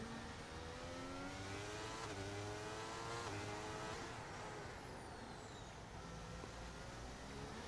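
Many race cars on a track at a Brazil racing event, engines droning and rising in pitch as cars accelerate and pass, a steady dense roar throughout with no voices.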